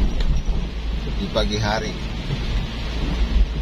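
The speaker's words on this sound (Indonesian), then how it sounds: "Ini hujan" Steady morning rain hisses over a city street in Manado, a broad constant wash with low rumble beneath, while a person talks briefly in the middle.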